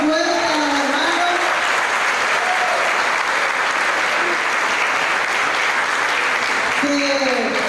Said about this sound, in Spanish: Démosle un aplauso fuerte a los hermanos.